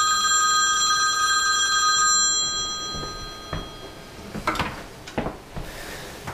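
A telephone bell rings in a sustained, bright burst, then cuts off and gives way to a few scattered knocks and clicks in a quiet room, with no voices.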